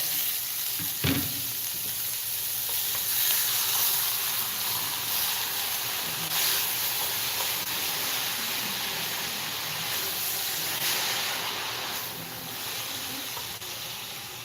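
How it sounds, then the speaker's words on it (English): Vegetables sauté in a soup pot that is a little small for the batch, producing a dense, constant sizzle and hiss with a faint clack of stirring near the start, close up and with no talking. "We're just gonna saute them a little bit, just to get a little color on them."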